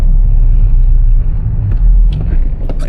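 A Nissan 370Z (Z34) drives slowly through snow, a loud, close, steady low engine rumble with muffled crunching toward the end.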